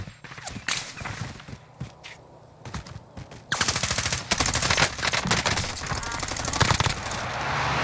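Automatic rifle fire in Call of Duty: Black Ops Cold War Warzone, scattered shots and footsteps giving way to a loud, continuous close-range burst of rapid gunfire lasting several seconds.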